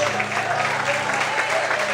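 Continuous church congregation applause, a dense wash of clapping with a low hum and faint voices beneath.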